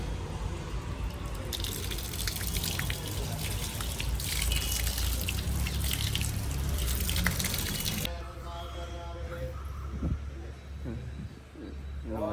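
Water runs steadily at a temple foot-washing place, a loud continuous splashing stream for about eight seconds, then it quiets to softer trickling while a voice speaks.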